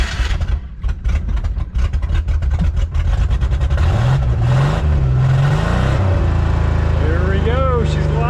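Ford Bronco II engine close by, cranking with rapid chugs before catching, then revving up and down in rising and falling sweeps, with a voice speaking briefly over it.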